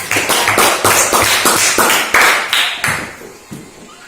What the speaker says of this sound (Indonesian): Teman-teman, berikan tepuk tangan untuk Dewi.